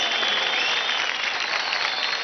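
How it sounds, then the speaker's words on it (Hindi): Loud, dense applause from a dance audition audience for contestant Arundhati, a steady wash of clapping that holds evenly from start to end. "जोरदार तालियां हो जाए अरुंधति के लिए गाइस, कम ऑन"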